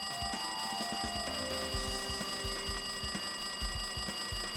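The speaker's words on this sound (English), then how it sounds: "Looks like the phone is ringing." A telephone rings in the Danganronpa 2 video game, a repeated electronic ringing tone pulsing in quick rhythmic bursts throughout, moderately loud with no talking over it.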